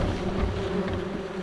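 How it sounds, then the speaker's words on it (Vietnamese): Honey bees hum steadily around a wild hive in a rock hollow in the forest, a close, continuous drone with no voices over it. "Ong mật về ở đó bạn."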